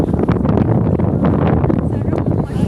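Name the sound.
wind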